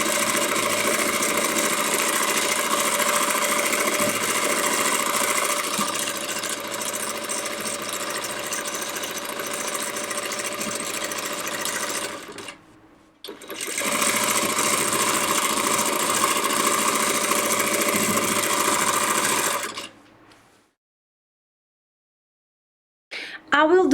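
Home sewing machine running steadily in long sustained bursts while free motion quilting straight-line border designs on a quilt, with a brief pause midway and a stop near the end; the motor hum and needle vibration sound close and continuous.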